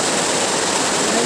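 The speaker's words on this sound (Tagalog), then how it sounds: "Umulan din po ng malakas." Heavy rain pours down steadily near rice fields, a dense, loud, unbroken hiss with no pauses.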